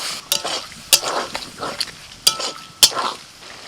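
Boiled ridge gourd tossed in a pan with onion and sesame seeds, heard as a handful of sharp spatula clicks and scrapes over a soft frying hiss, close by with no talk.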